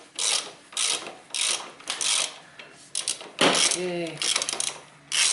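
Ratchet clicking in several short bursts while loosening a lower driveshaft bolt on a car, close and fairly loud, with a brief spoken word partway through.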